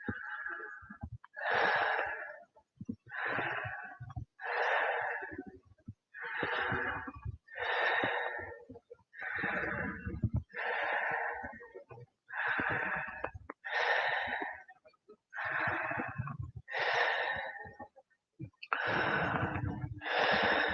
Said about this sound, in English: Let's go 10 more nice deep belly breaths.